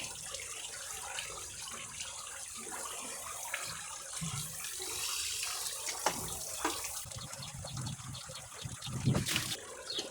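Water rushes and splatters continuously out of a pump for about ten seconds, close and fairly loud, with a few brief clanks and faint voices underneath.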